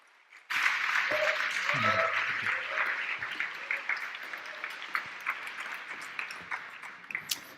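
A church audience breaks into loud, sustained applause as the pastor comes out to preach to young people in Sydney, the clapping starting abruptly and continuing steadily, with a brief voice near the start.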